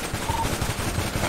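Rapid automatic gunfire bursts in GTA V NoPixel roleplay during a shootout with police after a failed boost, continuous and dense across the moment with faint voices underneath.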